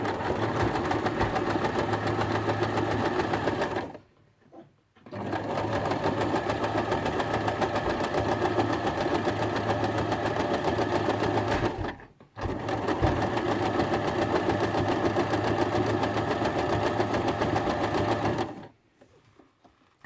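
A sewing machine stitches fabric while making seat-belt slots, running in three long steady bursts of rapid mechanical clatter separated by short pauses.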